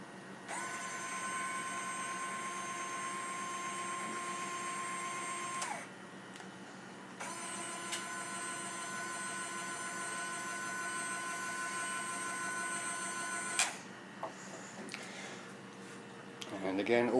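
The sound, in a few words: winch motor spooling out continuously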